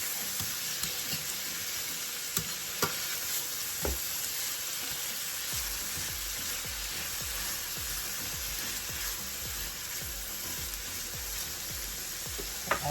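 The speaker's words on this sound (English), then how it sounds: "I'm going to fry up the seasoning for 2 to 3 minutes." Seasoning for Jamaican cabbage and salt fish fries in a pan with a steady, close sizzle, broken by occasional light clicks and scrapes of stirring; no voices.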